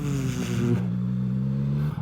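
A CFMOTO 675NK motorcycle engine pulls in second gear with a steady, close, humming drone whose pitch drops and settles partway through, no voices over it.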